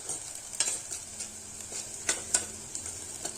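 Three or four green chillies frying with softened onion in a pan, a low sizzle under repeated light spatula taps and scrapes at an uneven rhythm.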